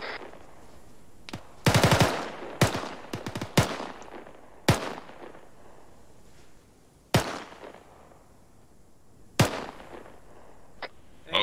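Gunfire in ArmA 3: a short rapid automatic burst followed by scattered single sharp shots, loud and nearby, spaced unevenly over a low background hum with no speech.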